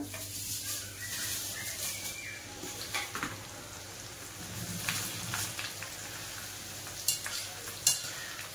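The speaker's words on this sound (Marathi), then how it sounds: "आता आपण कांदा पोहे तळून घेणार आहे" Flattened rice (kanda poha) frying in hot oil in a pan for chivda, a steady soft sizzle with occasional stirring and scraping, close and moderately quiet, no talk.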